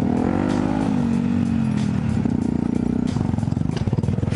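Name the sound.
supermoto motorcycle riding on bumpy hill climb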